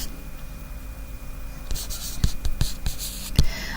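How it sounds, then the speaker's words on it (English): A pen scratches across paper while equations for a bike rental problem are written out by hand, giving a few quiet, close strokes and taps after a near-silent start. "Alright, so we're going to write the two equations."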